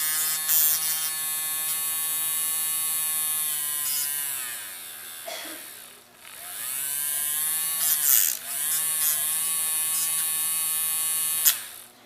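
Small electric motor whose speed is controlled by an optical sensor, a loud high-pitched whine that slows and drops in pitch twice, then rises back to full speed.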